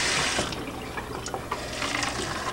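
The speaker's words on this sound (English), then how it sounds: "turn on the water" Water running from a kitchen faucet into a sink while artichokes are rinsed, a steady close splashing rush with small shifts as the flow hits the vegetable, no talking.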